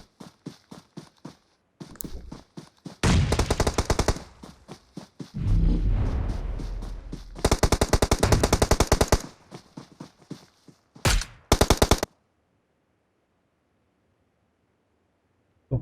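Rapid bursts of automatic gunfire from a PUBG Mobile death replay on the Sanhok map, firing in repeated loud volleys with short pauses before cutting to silence.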